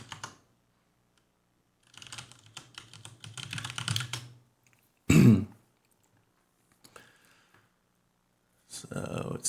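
Bursts of keyboard typing at a computer while logging into an OpenShift web console, clattering in two clusters with a loud bump and a cough-like sound between them, separated by quiet gaps.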